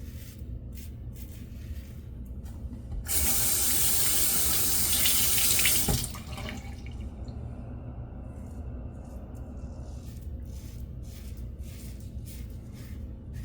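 Water running from a tap into a sink while a face is wetted during shaving, a loud rushing stream for about three seconds before it shuts off, leaving quiet background hum.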